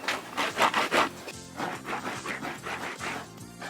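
Banana being grated against the thorny, rough edges of a sago palm grater for cooking in Vanuatu, giving a run of rhythmic rasping strokes, louder at first and then steadier and softer, with no talk.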